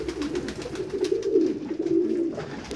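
A one-legged homing pigeon coos steadily and softly close by, a low continuous murmuring burble with no voices over it.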